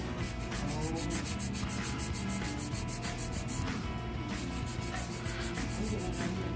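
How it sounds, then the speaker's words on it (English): Nail filing for a dipping powder manicure: steady, rapid rasping strokes in a fast repeating rhythm, close and fairly loud, with a short pause midway before the scraping resumes. "almost done with the filing."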